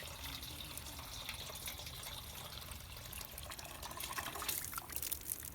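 Water trickles and pours into a dog's water dish, a soft, continuous splashing that rises a little toward the end, faint and with no speech over it.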